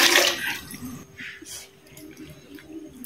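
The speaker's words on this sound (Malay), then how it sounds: "Seterusnya kita masukkan 4 cawan air kosong ke dalam periuk." Plain water is poured into a cooking pot while preparing pandan agar-agar, a short splashing burst at the start settling into softer trickling and gurgling, close by with no talk.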